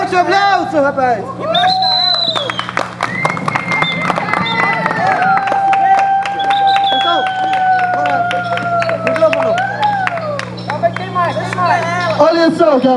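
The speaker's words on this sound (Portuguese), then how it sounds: "Bate o aplauso, rapaz!" An audience applauds at a clown show on International Clown Day, with steady clapping throughout the clip under loud, sustained voices and cheering from the crowd.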